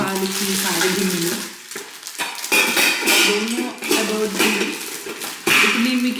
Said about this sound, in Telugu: పాలకి కాడ గిన్నెలు.